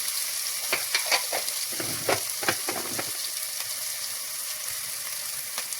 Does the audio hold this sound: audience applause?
no